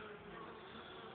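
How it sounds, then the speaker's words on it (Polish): A steady, close buzz of many honeybees droning together around a hive, continuous and even with no pauses. "tutaj więcej pszczół lata"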